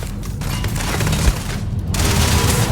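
Sustained gunfire in the space game Starfield, a dense stream of overlapping shots and booms at steady loudness that fills nearly three seconds without pause.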